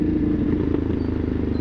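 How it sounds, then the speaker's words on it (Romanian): A 2016 Ducati Hypermotard 969 motorcycle engine runs with a loud, steady, rapid low throb, heard close up as a continuous pulsing rumble. "Motorul ăsta se aude așa de tare, dar pentru că se aude frumos nici măcar nu mă deranjează"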